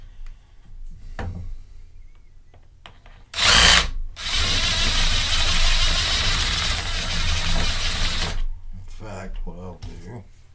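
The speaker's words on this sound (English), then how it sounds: "I might try it a little bit more with the drill, being very careful not to eat into the blank" An electric drill bores into a steel knife blank for a Silver Widow mod, a loud, steady whine lasting about five seconds after a sharp burst, with faint talk and quiet workshop noise before and after.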